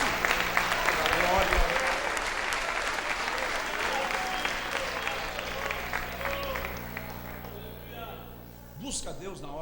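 Sustained applause from a church congregation, dense and steady clapping throughout, fading slightly near the end.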